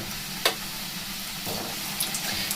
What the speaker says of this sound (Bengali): একদম লো ফ্লেমে এটাকে ভেজে নেব।